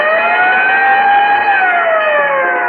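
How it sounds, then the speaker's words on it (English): A Texaco Fire Chief radio-show siren wails in a loud, sustained rising and falling tone for the whole stretch, with no separate bell strike standing out and no talk over it. "whenever you hear the siren and bell"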